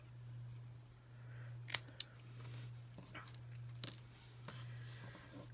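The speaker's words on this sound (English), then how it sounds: "just some paper snips here. And we'll just cut right up the middle" Paper snips cut straight up the middle of a sheet of paper for card making, giving a few sharp, close snips spaced apart, quiet over a steady low hum, with no talking.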